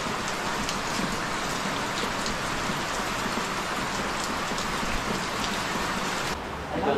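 Heavy rain pours steadily on a coconut farm during copra delivery, a dense even hiss that stays loud and constant, then briefly thins near the end.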